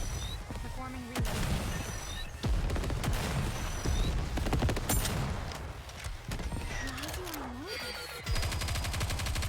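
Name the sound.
gunfire from the video game Nikke: Goddess of Victory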